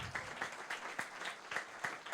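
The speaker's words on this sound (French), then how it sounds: "On peut l'applaudir." An audience applauds a speaker at a health and society event in Montreal, a faint, steady wash of distant clapping heard through a microphone, with no talking.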